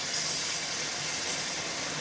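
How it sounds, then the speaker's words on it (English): Water from a standard home mug pouring steadily into a pot of aloo gosht, a continuous close splashing gush with no pause. "now is the time to add the water"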